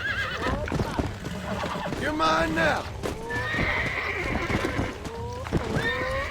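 Horses in Red Dead Redemption neigh and whinny several times with high, wavering cries, over clip-clopping hooves and someone talking throughout.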